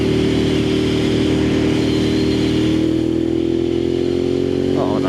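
A Moto Guzzi Griso motorcycle with loud aftermarket pipes runs close by, giving a steady, deep, throbbing exhaust drone with an even engine pitch throughout.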